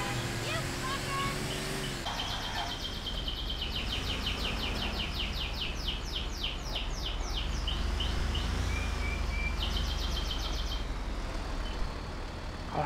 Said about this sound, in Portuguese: bando de passarinho chato da porra